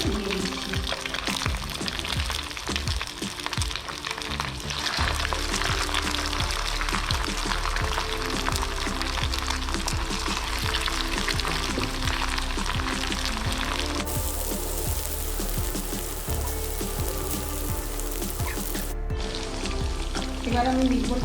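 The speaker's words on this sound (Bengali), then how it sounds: "তেলটা গরম হয়ে গেছে, এবার আমি মিটবলগুলো এতে দিয়ে দিচ্ছি।" Chicken meatballs frying in hot oil, a steady dense sizzle and crackle that carries on without pause.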